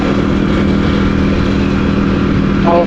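A Yamaha Aerox motor scooter running close by: a loud, steady mid-pitched engine drone that holds evenly throughout, with a slight rise near the end and no talking.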